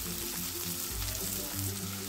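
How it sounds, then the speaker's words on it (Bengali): Salted potato pieces frying in a pan for a pointed gourd recipe, producing a soft, steady sizzle and crackle throughout a short stretch with no speech. "আলুগুলোকে এইভাবে ভেজে সিদ্ধ করে নিতে হবে"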